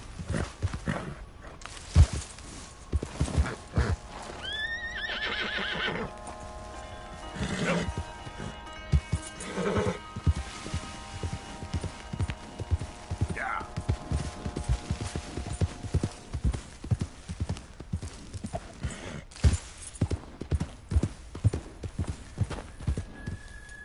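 Horse hooves clip-clopping at a steady galloping rhythm in Red Dead Redemption 2, close and continuous over the full stretch, with a brief whinny and occasional game sounds layered on top.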